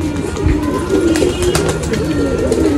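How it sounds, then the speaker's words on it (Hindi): Domestic pigeons coo in a low, continuous murmur from a loft holding several birds, with overlapping soft calls close by and a steady rustling bed of flock noise throughout. "वही अंदर वाले कबूतर को भी खोल देता हूँ मैं।"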